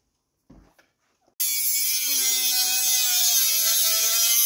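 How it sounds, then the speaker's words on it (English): A Dremel rotary tool whines into a loud, high-pitched steady buzz as it cuts the plug off a garbage disposal cord, following a few brief handling knocks and a short pause beforehand. "So we're gonna Dremel this so that we can get the plug out and reuse it."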